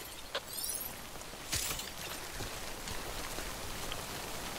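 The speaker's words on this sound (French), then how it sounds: "dépêche-toi, il pleut" Rain falls in the video game Death Stranding as a steady, soft hiss of droplets on surfaces, fairly faint and continuous with no voices.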